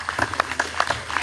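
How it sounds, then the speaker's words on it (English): Brief clapping from an audience at a Maryborough Federation centenary ceremony, heard as a short run of distinct, uneven hand claps at moderate loudness. "but I think they've earned a bit of a clap."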